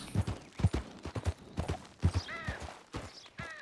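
Horse hooves clip-clop in an uneven, shuffling rhythm in the Red Dead Redemption 2 game, moderately close, with a few brief whistle-like tonal chirps mixed in and no talking.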